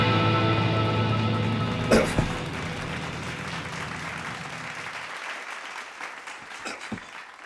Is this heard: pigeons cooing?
no